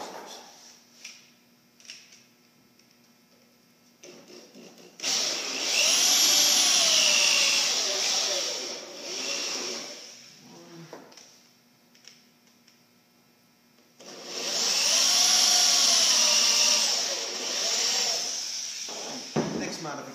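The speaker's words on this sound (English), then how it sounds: "And then I can bore these out for the drawer front adjusters." A drill bores holes for drawer front adjusters on Euro style cabinet doors and drawer fronts, two long loud whirring runs with a steady high whine and short quieter gaps between them.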